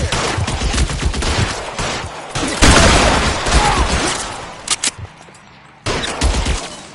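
Gunfire rattles through a shootout in LA Noire, with dense bursts of shots and heavy reports, a loud blast in the middle, then scattered single cracks before another volley, with shouting mixed in.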